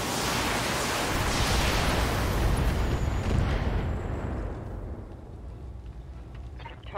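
A tower is destroyed in the mech combat game Battletech with a long, heavy explosion. A broad roaring rumble holds loud for several seconds and then slowly dies away into a fading tail.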